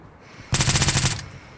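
Rapid automatic gunfire in the video game One Armed Robber, a burst of about ten evenly spaced shots lasting half a second, loud and close.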